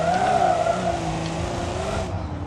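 Loud, steady engine and tire noise from an SUV braking hard without ABS in BeamNG.drive, with a sustained skidding squeal that holds for about two seconds before the tone changes and drops away.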